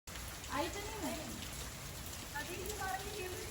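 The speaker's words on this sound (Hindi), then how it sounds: "इस टाइम पे इतनी अच्छी बारिश हो रही है" Soft, steady rain patters in the background while a person talks over it.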